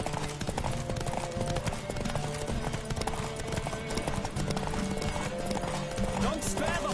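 Horse hooves clip-clop at a gallop in The Witcher 3, a steady rapid beat running throughout, mixed with game music and occasional whinnies, with speech over the top.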